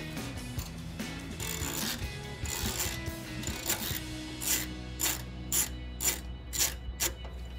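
A ratchet wrench with a 7 millimeter socket clicks quickly as it takes out headlight bolts on a 2007-2013 Sierra 1500. The clicking runs steadily near the mic, then breaks into short evenly spaced bursts of ratcheting.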